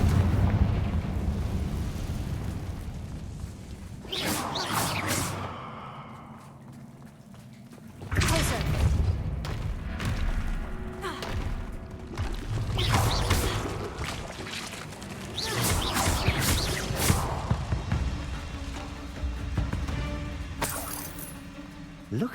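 Confringo spell explosions in Hogwarts Legacy, several loud bursts with rumbling tails, scattered across the stretch amid combat noise and game sounds, with a character's voice heard in places.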